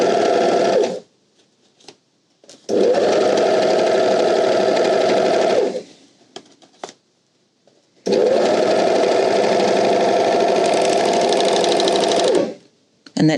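An overlocker serges fabric edges in two long, loud, steady whirring runs of about three and four seconds, separated by quiet gaps with small handling clicks, heard up close.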